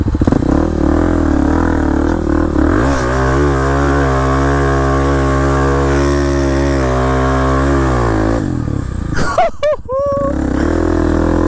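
A Kawasaki KLX300 supermoto dirt bike engine drones steadily up close, its pitch climbing and holding before cutting out near the end amid a burst of clatter and excited shouting.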